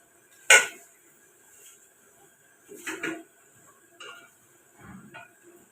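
Utensils clink and scrape while mutton shorba is dished out, a sharp knock followed by a few scattered clinks and creaks at close range with quiet pauses between.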